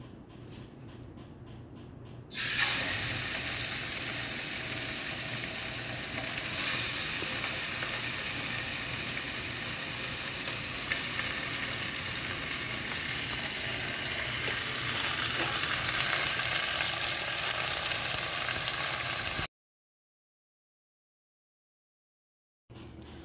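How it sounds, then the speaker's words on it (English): Meat searing in hot oil in a heavy-bottomed pot, a steady loud sizzle and crackle that holds for about seventeen seconds, then cuts off briefly before resuming. "while the meat is sealing"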